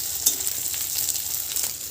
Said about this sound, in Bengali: আমি এখন ডিম ভাজছি, গরম গরম ডিম ভাজা